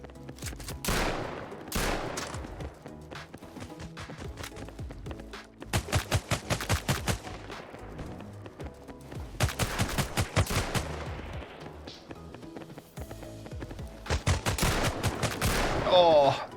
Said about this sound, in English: point blank with a shotgun